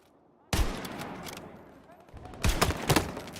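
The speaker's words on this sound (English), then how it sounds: "Oh, that's a grenade." A grenade explodes in the Roblox video game, a sudden loud blast followed by rumbling and further bursts, with gunfire-like cracks near the end.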